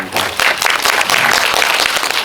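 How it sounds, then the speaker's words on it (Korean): An indie film event audience claps loudly and continuously for a couple of seconds, a dense, close burst of applause with no talking over it. "박수 부탁드립니다."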